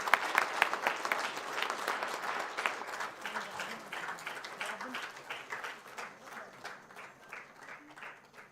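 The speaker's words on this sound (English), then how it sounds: "We can clap for her." Audience applause fills a symposium hall, dense steady clapping from a crowd that stays strong for several seconds before gradually thinning and fading toward the end.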